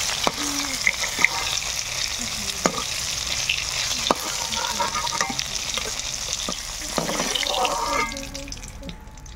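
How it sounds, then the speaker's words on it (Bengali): Rui fish frying in hot oil gives a steady, close sizzle broken by frequent clicks and clatter from turning the pieces, with no one talking. "সব মাছ ভাজা হয়ে গেছে, এবার তুলে নেব।"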